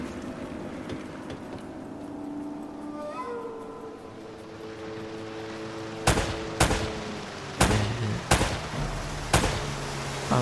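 Sharp gunshots ring out in Uncharted: Drake's Fortune, a rapid series of loud cracks in the second half, following a stretch of low game ambience with faint tonal sounds.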